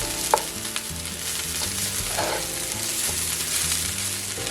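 Rice frying in oil in a pan for fried rice, a steady close sizzle with occasional stirring scrapes and light clicks, no talking.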